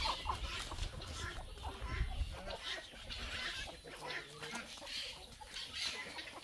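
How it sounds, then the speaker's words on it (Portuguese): A chicken wanders into a room and clucks nearby in short, irregular bursts over a low background rumble. "Nesse meio tempo entrou até uma galinha aqui, gente, fazer companhia."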